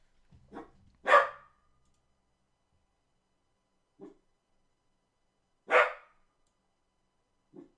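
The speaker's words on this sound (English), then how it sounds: "He's in there barking away," A dog barks in another room, giving about five short, muffled barks spaced irregularly over several seconds, with silence in between and no talk.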